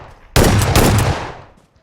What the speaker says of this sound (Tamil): ஷார்ட் கன் அவன்